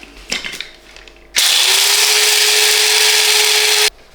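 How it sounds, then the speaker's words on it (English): An electric grinder whirs steadily for about two and a half seconds as it grinds Colombian Supremo coffee beans, loud and close, starting and stopping abruptly after some faint handling noise. "Grind the beans."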